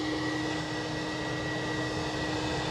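An Air Canada Boeing 787 Dreamliner on short final at Edinburgh Airport gives off a steady, broad jet-engine roar, distant and even throughout without change.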